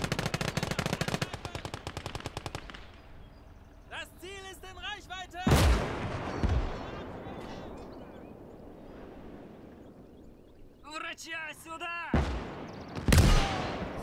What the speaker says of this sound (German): Ein paar Schuss noch, dann haben wir das Maxim.